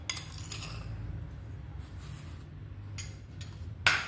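A spoon stirs sugar into batter for a rolled chocolate and vanilla sponge cake, clinking faintly against the bowl over a low hum, with a sharper clink at the end.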